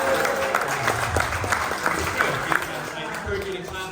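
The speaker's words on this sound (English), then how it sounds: "I encourage you to clap at appropriate times as well as inappropriate times." Scattered audience clapping at a Wharton Class of 1986 reunion class dinner, loose and uneven hand claps from a room of diners with talk and room murmur running underneath.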